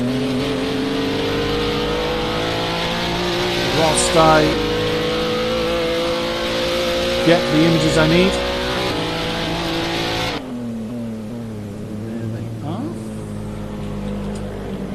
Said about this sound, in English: You'll hear obviously Andrex's car continuing around the track.